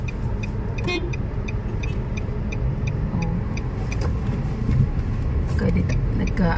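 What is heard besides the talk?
road traffic with cars and honking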